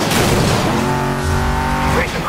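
A car crash in Need for Speed Most Wanted, a loud, close burst of engine roar and tire scraping lasting about two seconds, with a voice talking over it.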